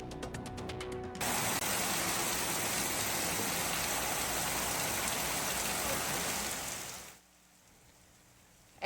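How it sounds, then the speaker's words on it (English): Heavy rain pours down in a dense, steady hiss for several seconds, then cuts off abruptly to near quiet. "lightning, and heavy rain, the first of a series of storms leaving Kern County drivers battling the wet weather"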